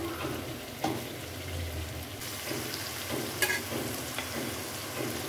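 Onion and ginger-garlic paste sizzle in oil for an ash gourd curry: a constant frying hiss with occasional spatula scrapes and knocks against the pan, and no talking.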